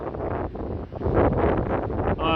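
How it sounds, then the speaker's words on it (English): Strong wind gusting across a high Highland golf course at Dalmunzie, buffeting the microphone with a loud, broad roar that rises and falls throughout. "Oh, it's not half windy today."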